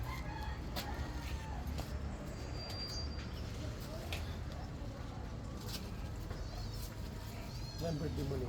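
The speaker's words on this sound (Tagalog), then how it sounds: "Manok." A rooster crows in a rural Filipino yard near houses, the calls somewhat distant and rising over steady background noise, with people talking nearby.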